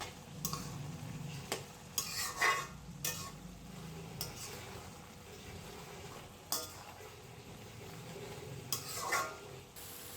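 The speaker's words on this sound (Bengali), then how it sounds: "তারপর একটুখানি নাড়াচাড়া করে নিলাম।" A spatula stirs cabbage fry with coriander leaves in a hot pan, giving a few scraping strokes over a soft low sizzle, with quiet gaps in between.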